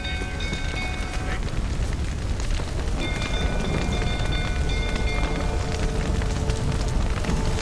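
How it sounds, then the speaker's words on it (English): Steady, dense rain noise in The Witcher 3: Wild Hunt fills the whole stretch, loud and even, with faint tonal hums and clicks mixed in. "Looks like rain."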